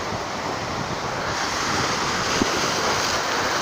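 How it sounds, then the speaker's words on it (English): Ocean surf rolls and crashes at Galveston on a windy day, a dense continuous roar of breaking waves mixed with heavy wind buffeting the microphone and a brief thump. "We came here for the waves."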